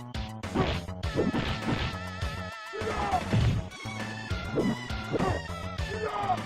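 Repeated crashing and thwacking hits from the Final Fight beat-'em-up on SNES as enemies get slammed against a crate, loud and continuous with game music running underneath.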